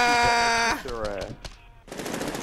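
Gunfire in the Medal of Honor Warfighter shooter game, a few short rapid bursts amid tonal game sound and a voice, ending in a stretch of noisy crackle.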